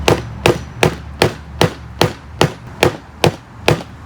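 Hammer striking a leaf laid on fabric to transfer its dye, ten sharp, evenly spaced thuds at a steady rhythm of roughly two blows per second, close and crisp, with no voices.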